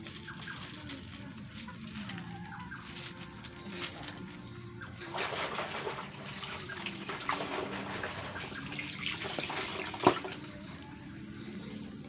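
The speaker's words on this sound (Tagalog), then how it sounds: "naglalaba pa rin si Batanggin" Laundry is washed by hand with soapy water at night, with soft splashing and sloshing in a steady, fairly quiet stream and one sharp knock near the end.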